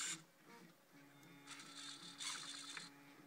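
A servo whirs as it pulls the thumb of a 3D printed robotic hand, producing a quiet, close mechanical gear whine in short bursts that start and stop.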